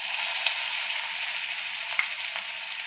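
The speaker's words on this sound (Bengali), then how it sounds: "আমি এখন একটা একটা করে পকোড়া দিয়ে দিব।" Battered chicken pakoras fry in hot oil with a dense, bright, even hiss and a couple of sharp pops, heard close without any talking.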